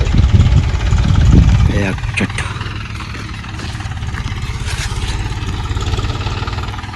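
A tractor engine running in a field, a steady low throbbing rumble that stays loud and close throughout, with a brief voice and some clatter over it near the start.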